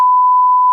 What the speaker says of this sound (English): I'm beeping that